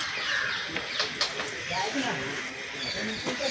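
A crow perched in the Byculla zoo garden in Mumbai caws a few times, faint and somewhat distant. Someone talks over it in the foreground.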